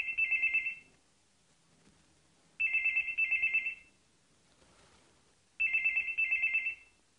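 Telephone ringtone on a business phone system, three identical electronic ring bursts with pauses between them, clear and close with no talk.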